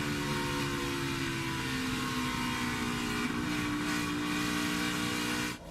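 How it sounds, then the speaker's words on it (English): Close, loud, steady engine drone from a NASCAR stock car at the Brickyard 400, throttle feathered through a turn, holding a sustained harmonic whine with only slight shifts in pitch and level throughout. "We heard Harvick feathering that throttle as he went through the turn"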